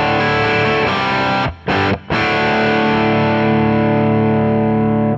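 Distorted electric guitar played through a gainy amp profile with a Klon- and Timmy-style boost in front, delay off and reverb on, sustains thick chords for about five seconds, broken by two brief gaps.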